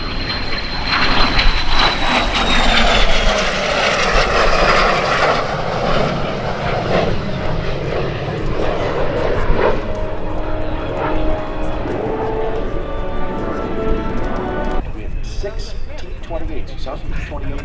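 A de Havilland Vampire jet flies past at the EAA AirVenture Oshkosh airshow, its loud engine roar sweeping across a busy outdoor crowd while an announcer talks over it.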